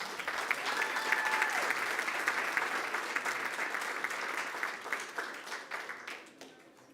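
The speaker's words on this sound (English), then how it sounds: "How about we give them a round of applause?" An audience at a school board meeting applauds spring student athletes, a dense burst of clapping from a sizable crowd that tapers off and fades out at the end.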